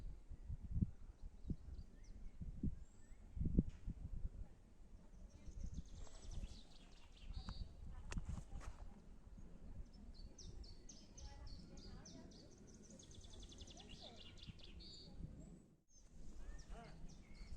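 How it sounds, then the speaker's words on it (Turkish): Faint bird chirps and tweets scattered through an outdoor scene, mixed with low rumbling, rustling and indistinct voices in the background. "Kuş seslerini duyun istiyorum."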